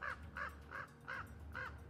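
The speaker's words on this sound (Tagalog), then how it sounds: "Umaalingaw-ngaw sa paligid ang ingay ng mga ibon at sinasabayan pa ng kaluskos" Crows caw in a horror story setting, five evenly spaced harsh calls over a low rumble, faint and distant-sounding.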